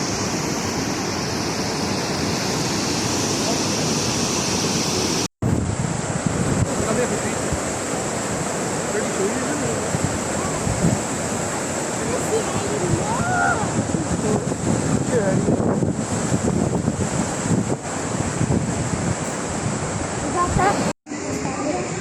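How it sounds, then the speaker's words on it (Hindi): Fast-flowing water rushing at the waterfall of the New Lanark heritage site in Scotland, a loud, constant roar close by, buffeted by gusts of wind noise, with two brief dropouts where the sound cuts. "कुछ जगहों से पानी के बहाव को बहुत तेज़ी से दिखाया गया है"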